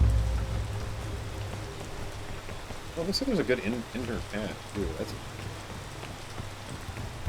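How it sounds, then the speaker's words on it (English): Steady rain patters on a surface outdoors on a hiking trail, a constant hiss under someone talking briefly about the route ahead. "Of course, it starts raining."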